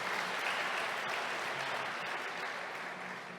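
Applause rises from the audience at a city's State of the City address, a steady, moderately distant patter of many hands that eases off gradually toward the end.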